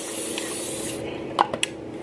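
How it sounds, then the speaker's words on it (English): A coconut oil cooking spray can releasing one steady, close hissing burst for about a second, followed by quiet kitchen handling clicks. "I have this coconut oil spray."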